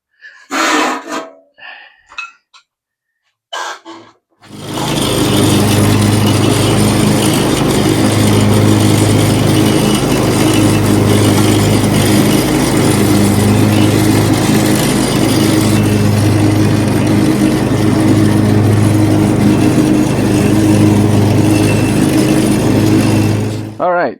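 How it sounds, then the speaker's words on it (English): A Husqvarna zero-turn lawn mower with a worn, holed deck runs loud and steady while mowing, its engine drone continuous for about twenty seconds after a few brief breaths and noises at the start. "And do some more mowing."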